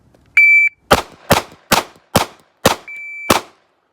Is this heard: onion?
no